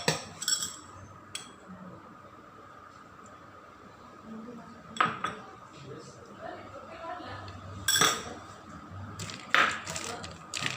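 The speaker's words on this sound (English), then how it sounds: "I'm going to mix up all these things again." Chicken biryani ingredients being stirred in a cooking pot, with a few sharp metallic clinks and scrapes of a utensil against the pot at scattered moments over a quiet kitchen background.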